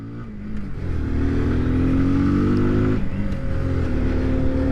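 A 2020 Kawasaki Z125 Pro mini motorcycle engine revs up and holds a steady, buzzing drone with rising pitch. It is close and fairly loud, with no talk.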